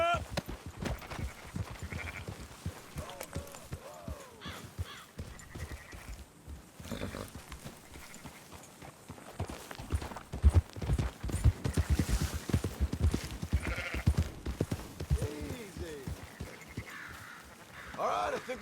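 Sheep bleat repeatedly amid a moving flock while horse hooves clop steadily in the Red Dead Redemption 2 video game, with a voice talking over the animals.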